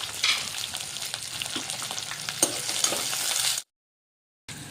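Chopped onions and green chillies frying in a pan, a continuous bright sizzle with stirring scrapes, then a second of silence before the sizzle resumes.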